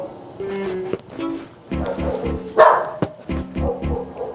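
A dog barks in short repeated bursts, fairly close, over a steady high insect-like drone, in a crafting game session; a few quieter pauses separate the barks.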